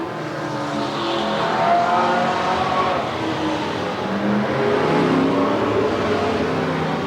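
Race cars at Willamette Speedway roar around the oval in a steady, dense engine drone, loud and continuous with swelling passes and no voices.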